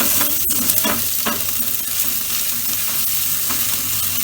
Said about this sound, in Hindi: इन दोनों को भी अच्छे से भूनेंगे और प्याज जिंजर गार्लिक को हल्का ब्राउन करेंगे